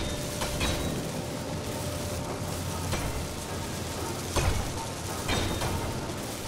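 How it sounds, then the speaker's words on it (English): Continuous crackling hiss of a welder at work in the video game Space Engineers, steady and close, with brief sharper bursts now and then and no talking. "This is welding."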